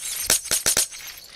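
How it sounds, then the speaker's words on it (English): Glass breaking in the Roblox Hello Neighbor game, four sharp bright crashes in quick succession, loud and close against a quiet background. "I hear a bunch of glass breaking."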